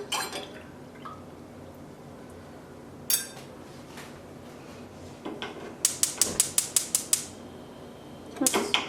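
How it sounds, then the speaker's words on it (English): A utensil stirs dye in a pot of water for overdyeing hand-dyed roving, producing scattered clinks and then a quick, regular run of tapping knocks against the pot, close up over a low steady background hum. "And just give this a nice little stir."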